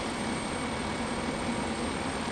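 A King Air turboprop engine running in a home cockpit flight simulator, a steady, loud, even drone with a faint high whine over it. It holds without a break and no one speaks.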